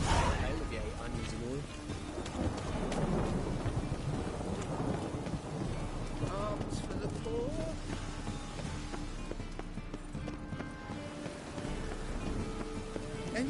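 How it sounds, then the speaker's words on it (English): Thunderstorm with rain in The Witcher 3: Wild Hunt, a constant wash of rain and low rumbling thunder filling the whole scene, with voices talking over it in places. "A storm, damn it."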